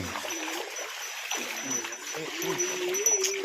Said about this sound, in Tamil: தண்ணி நல்லா ஜம்முன்னு போகுது.